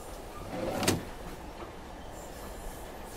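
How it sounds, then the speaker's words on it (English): A train in the Silent Hill 3 video game rumbles along with a low, steady rolling noise; a brief louder burst near the start, like a sliding door or wagon clank, fades back into the continuous hum. "What a strange train."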